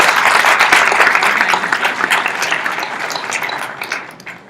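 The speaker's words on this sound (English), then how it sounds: "Please give her another applause." Audience applause at the close of a keynote in a conference closing session, dense and loud clapping from a crowd that holds steady, then tapers off toward the end.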